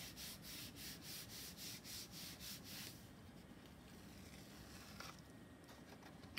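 Paper is rubbed by hand onto a gel printing plate inked in turquoise, a steady rhythmic swishing of repeated strokes at first, then a softer continuous rubbing, close and quiet.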